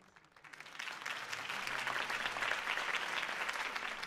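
Applause from a crowd after a campaign speech, swelling from quiet to sustained, dense clapping that holds steady to the end.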